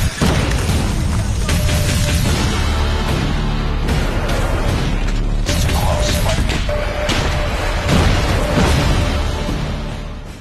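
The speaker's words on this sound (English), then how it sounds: "Here's the upcoming Cryo bomb. It releases a surge of freezing air that slows the enemy." A cryo bomb detonates in Call of Duty Mobile, releasing a loud, sustained rush of blasting noise with deep thuds that fills the whole stretch before fading slightly at the end.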